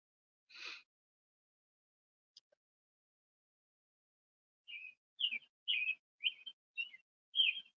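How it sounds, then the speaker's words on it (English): A bird calls outdoors with one sharp chirp, a faint tick, then a quick run of six loud, close, high chirps near the end, against near silence. "Oh my God, that bird is really loud."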